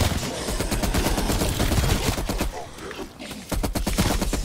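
Rapid bursts of automatic gunfire in Call of Duty: Black Ops Cold War Zombies fill the clip, loud and nearly continuous, with a brief lull before the shooting resumes.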